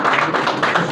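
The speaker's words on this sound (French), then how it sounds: "Applaudir la ministre." Loud, dense applause from an audience welcoming a government minister at a community development centre celebration, a brief burst of close clapping.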